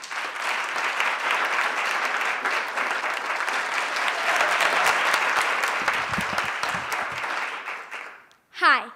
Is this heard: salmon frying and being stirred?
no